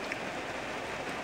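Steady rain falling around a street near a police station on Jalan Jawa in Bandung, a constant broadband hiss of drops on surfaces with no distinct pattern, fairly loud and unbroken, with no voices.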